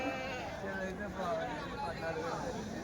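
Goats bleating nearby at a weekly sheep and goat market in Kadiri, several overlapping cries under a steady murmur of people talking in the background.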